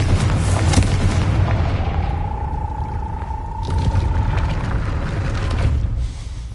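A Confringo spell blasts a gate in a video game, with a deep, rumbling explosive roar that holds loud and close for several seconds under a rising whistling tone, then a second boom swells before fading.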